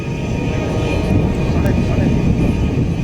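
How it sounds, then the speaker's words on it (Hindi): Jet engine of a Tejas fighter aircraft on a runway at an Indian Air Force induction ceremony in Bengaluru, heard as a steady, loud broadband roar throughout with no clear breaks. "अब रनवे पर ये विमान उतरने वाला है"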